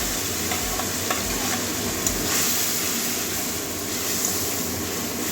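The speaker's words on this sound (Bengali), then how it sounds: "টমেটোটা কাঁচা গন্ধ যাওয়া পর্যন্ত কষিয়ে নেবো" Spices and chopped tomato are stir-fried in a pan, making a steady close sizzle with faint, regular scraping from stirring throughout, and no voices.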